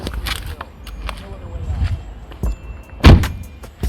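Someone getting out of a BMW F32, with a few close clunks and rustles and a solid door thud near the end, while someone talks.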